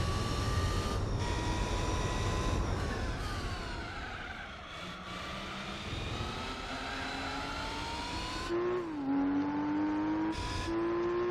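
Two race cars, a Muse S2000 and a Yellowbird, run side by side in Gran Turismo 4, their engines droning loud and close with rising and falling pitch as gears change, and no talk over them.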